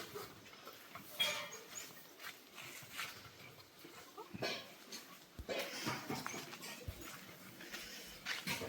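Dogs at a boarding kennel, scattered faint barks and whimpers in a quiet space, with occasional footsteps and movement nearby.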